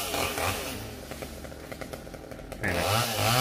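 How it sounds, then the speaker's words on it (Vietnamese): A chainsaw cuts down a coconut tree, its engine snarling loud and close for the whole stretch, easing briefly in the middle before surging back to full power. "Này này, cưa cái dừa này rất là áp lực, rất là khó nha các bạn."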